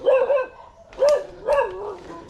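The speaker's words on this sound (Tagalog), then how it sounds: "May aso pala dito." A dog barks three times outdoors on rocky, slippery ground, the barks loud and fairly close, evenly spaced about half a second apart.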